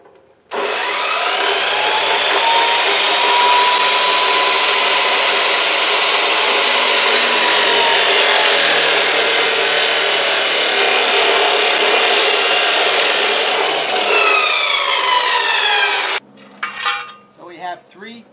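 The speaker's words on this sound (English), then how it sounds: "So now we cut the brace pieces, and I'm making each one 24 inches long." Metal brace stock being cut into 24-inch pieces for rebuilding a fifty-year-old equatorial telescope mount: a loud, steady, ringing saw grind runs continuously for about fifteen seconds, then stops, followed by a few brief clanks and rattles.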